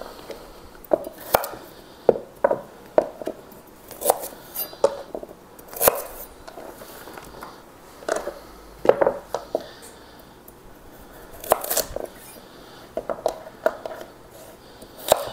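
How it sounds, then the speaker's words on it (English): A knife chops peeled, washed carrots and potatoes into chunks on a board, an irregular series of crisp, close taps with brief pauses between cuts and some light clinks. "I'm just gonna chop up some carrots and some potatoes to roast"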